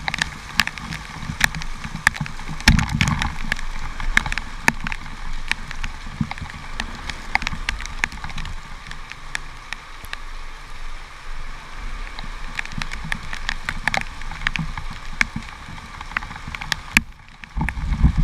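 Rain pours during a ride home in a heavy downpour, a steady hiss of drops on surfaces with scattered sharper taps and splashes throughout, fairly constant and without voices.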